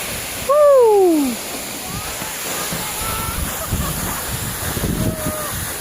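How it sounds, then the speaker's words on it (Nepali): Phung Phung waterfall in Nuwakot, Nepal, heard as a steady rush of falling water. A brief high gliding whistle or call rises over it near the start. "फुङफुङे झरना दिदी यता हेर्नु ल।"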